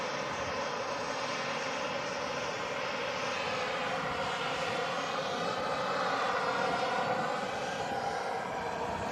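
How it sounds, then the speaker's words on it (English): A passenger aircraft landing at Manchester Airport gives a steady, loud, broad engine roar heard from a distance, holding at an even level and swelling slightly near the end, with no talk over it. "it also guides the aircraft down vertically so that it touches down"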